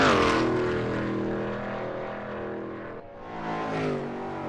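Steady racing-engine drone from Veloce GTS-8 cars warming up at Watkins Glen in a sim racing game, loud and close, dipping slightly before rising again.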